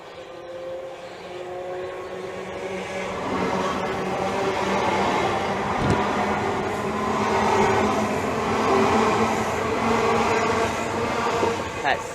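Class 395 electric multiple unit 395029 departs Rainham station, Kent, on the Chatham Main Line, a steady rumbling rail roar with a faint horn-like tone and a single clack midway, near and continuous.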